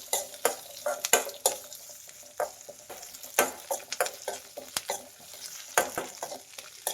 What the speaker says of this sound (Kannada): ಇದನ್ನು ಎಲ್ಲ ಮೀಡಿಯಂ ಊರಿಲೇನೆ ಫ್ರೈ ಮಾಡಬೇಕು.